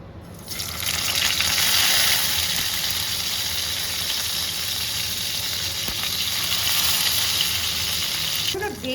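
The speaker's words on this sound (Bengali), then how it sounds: "কড়াই গরম হয়ে গেছে, এবার বেগুনটা ভাজবো। সরষের তেল দিয়ে দিই।" Eggplant frying in mustard oil in a hot wok gives a loud, steady sizzle that fills the whole clip, with faint stirring and no talk.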